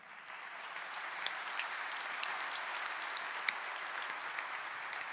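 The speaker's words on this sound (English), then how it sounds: "I love the fact that you applauded that" Steady audience applause fills a hall, a dense even patter of many hands clapping with no voices over it, holding at a constant level for several seconds.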